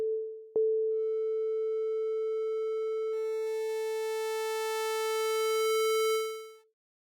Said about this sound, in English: So if we listen, it's got a sine wave.